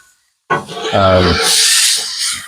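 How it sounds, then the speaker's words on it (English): Sausage scrapes off a hot Blackstone griddle: a brief rubbing, rasping scrape rises sharply and holds with a sizzling hiss for about two seconds after a short quiet start, close and fairly loud. "the sausage is done, so I'm going to pull the sausage off"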